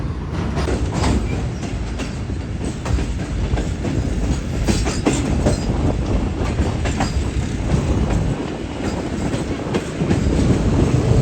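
Awam Express passenger train running on rails near a bridge at sunset, heard from inside: constant loud rolling rumble with a steady clickety-clack of wheels over rail joints, sustained and unbroken, with no talking.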